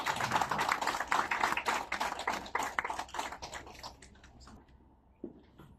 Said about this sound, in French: monsieur Daniel Chung de Tasteful Cuisine, sous vos applaudissements, bien sûr.